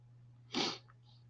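A single short sneeze bursts out, fairly close and clear, over a faint steady electrical hum in an otherwise quiet room.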